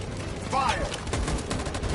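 Gunfire in the Detroit: Become Human video game: a burst of rapid shots under a steady din of battle noise, with a voice heard briefly over it.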